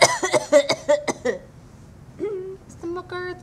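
A quick string of harsh coughs comes close to the listener, followed by a pause and then a few short voiced sounds, beside a broken-down ice cream truck.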